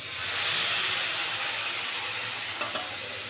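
Spice paste of ground coriander, cumin and a little Kashmiri red chilli mixed in water hits hot oil in a pan while cooking desi shing fish, giving a loud steady hiss and sizzle that eases slightly, with a couple of small clinks near the end.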